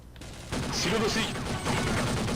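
Gunfire in the Roblox game Jailbreak comes as a rapid burst of game shots under a raised voice. The shots run in a quick rhythm and blend with other game noise.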